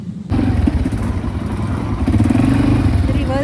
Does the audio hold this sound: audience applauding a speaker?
no